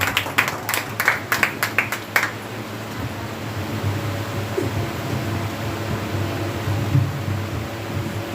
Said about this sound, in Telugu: గట్టిగా చప్పట్లు కొట్టి త్వరగా ఆహ్వానించుకుంటాం.